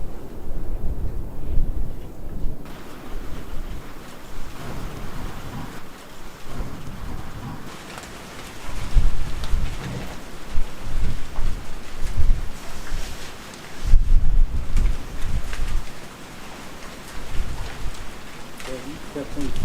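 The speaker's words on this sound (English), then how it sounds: "You definitely feel the rain hitting the back of your neck." Steady rain falls around a car camping in the Carrizo Plain, a dense continuous hiss with low rumbling swells and wind buffeting the microphone, loud and close throughout.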